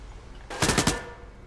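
Burst of rapid automatic gunfire in the tactical shooter Ground Branch, four or five sharp close shots in quick succession over a low ambient background.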